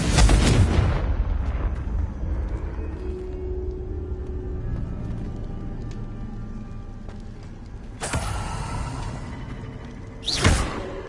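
Confringo blasting spell explosions in Hogwarts Legacy, a loud booming blast at the start that decays into rumble, then two more sharp bursts near the end, with no talk.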